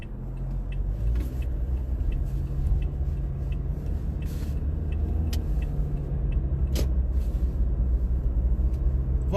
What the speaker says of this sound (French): Il y a plein de véhicules.